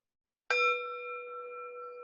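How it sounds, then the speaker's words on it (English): A mindfulness bell is struck once, giving a clear bright ding that swells fast and then hangs in a long, steady, pure ring with no voices over it. "That could be our cue to invite the bell."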